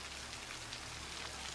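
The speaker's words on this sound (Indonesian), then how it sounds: "Kalau hujan-hujan macam ini" Steady rain falls and patters on a surface in a continuous, even wash of noise with no voices.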